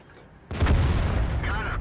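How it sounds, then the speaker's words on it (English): A tank cannon shot from the AMX M445 in World of Tanks hits with a sudden deep boom, followed by a sustained rumbling roar that stays loud to the end. "the AMX M445 puts a huge shot into Gunny"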